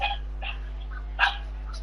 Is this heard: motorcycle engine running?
no